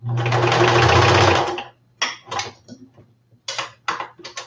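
A sewing machine stitches a seam, loud and close, in one steady whirring run of about a second and a half, followed by several short start-stop bursts of stitching.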